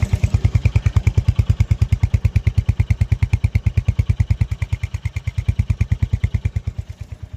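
A Hunter 350 motorcycle engine idles steadily up close, its rapid even thumping pulses continuing unbroken throughout.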